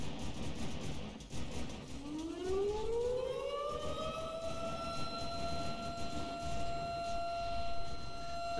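A siren in the naval combat game From the Depths rises from a low growl into a sustained wailing tone that holds steady, loud over a rumbling background of battle noise.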